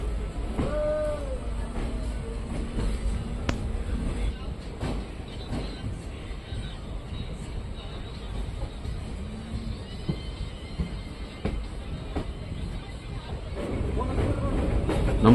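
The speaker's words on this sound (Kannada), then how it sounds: "ನಮ್ಮ ಟ್ರೈನ್ ಈಗ ನೇತ್ರಾವತಿ ನದಿನ ದಾಟ್ತಿದೆ ಬ್ರಿಡ್ಜ್ ಮೇಲೆ" A train crosses the bridge over the Netravati river during a monsoon journey, a steady low rumble with wind buffeting and a brief tonal sound near the start.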